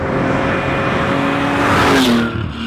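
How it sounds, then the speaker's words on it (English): A loud Porsche 2.7 RS race car engine drones and rises in pitch, then cuts off sharply near the end. "It's really an incredible high performance race car engine sound."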